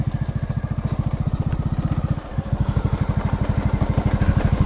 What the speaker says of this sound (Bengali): আমাদের বাইক সাওয়ারি।